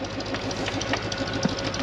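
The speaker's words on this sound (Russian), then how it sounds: "Сейчас нам надо повернуть трактор" A DT-75 crawler tractor engine runs nearby at a steady idle, with rapid even diesel knocking and a mechanical whine continuing throughout, with no voices.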